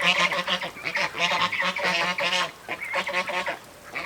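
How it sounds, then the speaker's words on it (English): A goose honks loudly and repeatedly in rapid, harsh bursts while a turkey attacks it on a farm, the calls close and continuous with only brief pauses. "I got a turkey beating up a goose."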